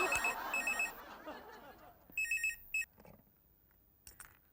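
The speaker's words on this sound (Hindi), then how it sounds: "नवसारी से नैन सुख का फोन था" Telephone ringing in a Hindi comedy TV show: a loud electronic bell trills in two short bursts, first under lively talk and laughter, then alone, with a faint final ring near the end.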